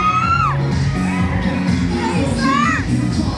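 Fans shout and cheer at an SM Megamall concert, with high rising whoops and yells over dense, loud crowd noise.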